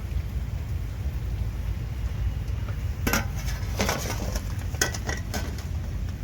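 Fried vada being lifted out of a pan of hot oil: a low, steady sizzling rumble runs throughout, with a cluster of sharp metal clinks from the utensil near the end and no talking.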